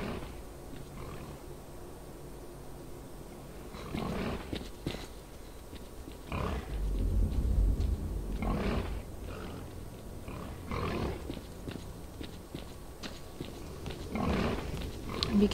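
Mutant pigs in the S.T.A.L.K.E.R. Clear Sky video game grunt and roar repeatedly in a rough, uneven rhythm over a constant hiss of ambient game noise, the snorts swelling and fading throughout.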